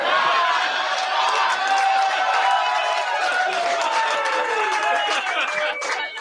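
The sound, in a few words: audience applause at stand-up comedy show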